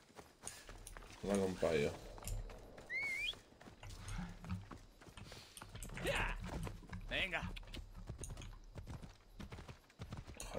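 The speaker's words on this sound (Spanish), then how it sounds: "es que el caballo corriendo así, tío, da pena y dolor ir a caballo" Hooves clip-clop from a horse running in a video game, a light rhythmic patter heard under a voice and other game sounds, moderately near and fairly quiet.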